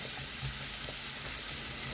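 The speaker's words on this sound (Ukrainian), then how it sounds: "Коли ви смажите засмажку на великому вогні, вона рум'яна і ароматна." Carrots fry in oil in a pan over high heat while a meatless summer soup is being made. A steady, close, hissing sizzle carries on throughout with no voices.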